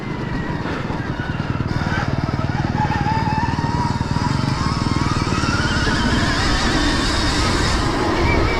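A Stark electric motorcycle ridden on a first ride, its loud, continuous whine and buzz up close, steady and droning throughout with rising tonal harmonics.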